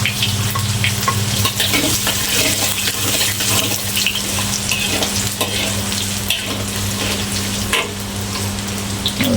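Garlic fries in a hot pan for a bitter gourd and prawn dish, giving a loud, constant sizzle with scattered crackles and stirring scrapes all the way through, and no one talking.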